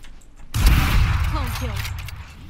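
A single Operator sniper rifle shot in Valorant, one sharp loud report followed by a decaying tail with faint voice-like tones underneath.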